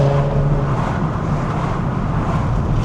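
A VW Scirocco fitted with an R32 engine drives along with a loud, steady engine drone and road rumble, heard from inside the car with no talk.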